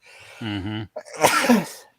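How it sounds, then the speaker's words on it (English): A single loud, close sneeze bursts out after a short voiced inhale-like buildup. "most people don't sneeze in 3s"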